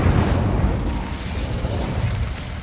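The Incendio fire spell from the video game Hogwarts Legacy erupts as a loud, roaring burst of flame that fills the whole short moment.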